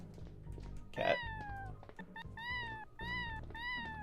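A cat meows several times in a row, each call a clear, rising-and-falling cry heard close over steady background music, with one short louder burst near the start.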